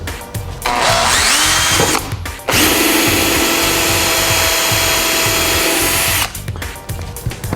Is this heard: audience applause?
no